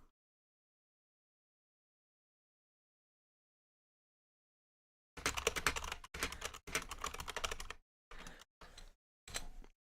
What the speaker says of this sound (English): I apologize for my loud keyboards